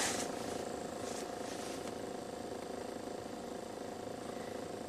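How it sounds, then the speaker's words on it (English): Five-cylinder engine of a 2005 GMC Canyon idling smoothly, a steady even hum at moderate level, heard alone without talk for the whole stretch. "Five cylinders, a pretty smooth engine."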